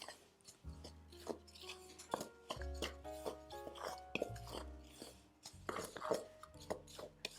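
Spoon scraping and rasping through dry gingersnap cookie ingredients, including ground ginger, in a mixing bowl; irregular close-up scrapes and soft knocks, fairly quiet, with no talking.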